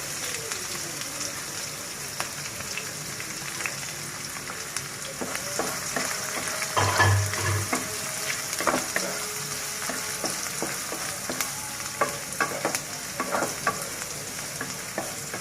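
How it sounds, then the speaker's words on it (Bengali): Onions sizzle and fry in a pan for a cow tripe bhuna, with a steady hiss and intermittent scraping stirs, one louder clatter midway, at moderate level close by. "এক মিনিটের মতো এভাবে পেঁয়াজটা আমি ভেজে নেব।"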